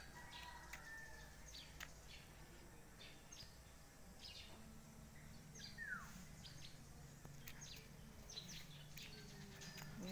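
Birds chirp and call faintly from a backyard fruit tree with ripening fruit, scattered short tweets and whistles over a constant outdoor hiss, with no speech.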